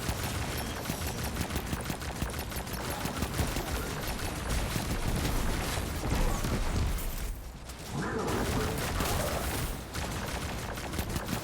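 Rifle fire in Destiny 2 during a Gambit match, a dense, steady barrage of shots layered over game noise and music, with a brief lull before firing resumes.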